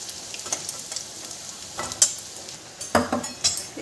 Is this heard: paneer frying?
yes